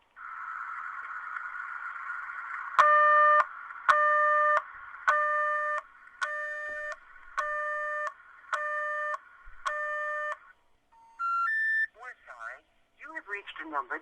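Telephone call in a Freddy Fazbear fan setting: a steady dial tone gives way to seven identical dialing tones in an even rhythm, then a rising three-note intercept signal and a brief recorded voice.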